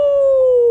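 A storyteller's voice imitates a dog howling: one short, steady, sustained tone that sinks slightly in pitch, loud and close.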